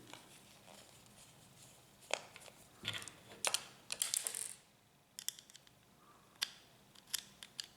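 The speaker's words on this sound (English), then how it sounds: "Remove these 2 screws." Two small screws come out of the right side plate of a Lexmark MS/MX toner cartridge, sparse sharp clicks and brief metallic scrapes spaced irregularly, close and quiet with no voices.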